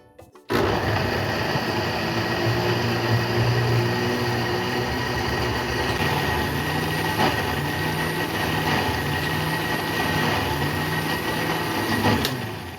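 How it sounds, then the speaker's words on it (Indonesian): Kitchen blender grinding cooked rice with dried shrimp, garlic and water into a smooth paste; a loud steady motor whir starts abruptly and runs without pause, its pitch shifting slightly as the mixture thins. "Oke, kita blender sampai halus dulu."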